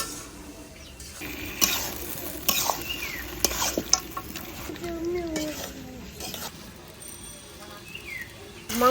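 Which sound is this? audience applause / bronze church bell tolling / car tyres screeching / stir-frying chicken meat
stir-frying chicken meat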